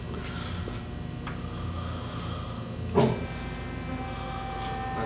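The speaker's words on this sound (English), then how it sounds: "It's a hydraulic pump." A hydraulic pump on a Swiss Tschudin universal cylindrical grinder runs with a steady mechanical hum and whine, broken by a single brief clunk midway.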